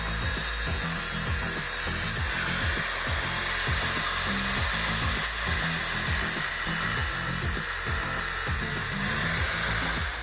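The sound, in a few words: angle grinder cutting off metal mounting tabs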